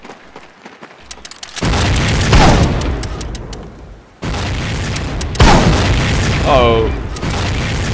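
Mortar explosions in the Medal of Honor: Pacific Assault video game, two heavy booming blasts that each roll on into a long rumble. A brief voice exclamation is heard between them.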